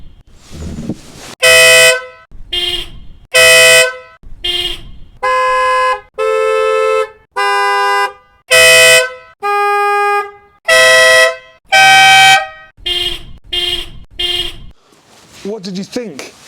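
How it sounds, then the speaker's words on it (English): Car horn blasts in a long sequence of bursts, some short toots and some sustained tones with changing pitch, as several horns are compared, including a BMW factory horn and aftermarket air horns; loud and close, separated by brief silences. "So I'm going to hit the horn"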